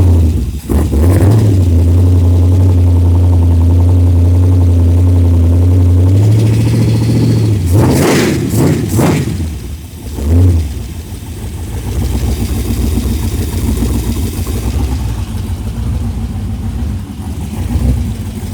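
A GM LS 5.3 V8 fitted with a front-mount HEI distributor fires up and settles into a loud, steady low idle, then gets a few sharp revs before idling on unevenly, close by with no talk.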